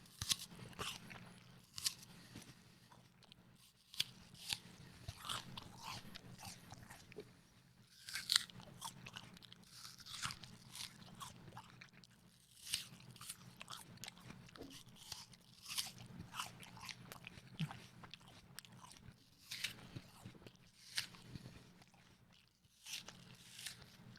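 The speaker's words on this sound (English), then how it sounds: "The apple breaks off. Crispy, delicious, crunchy." Crisp bites and crunchy chewing of a Red Delicious apple come in repeated close, sharp crunches followed by softer mastication.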